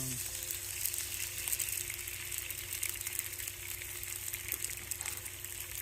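Eggs fry in hot oil for chicken fried rice, giving a steady, close, continuous sizzle with a low hum underneath and no talking.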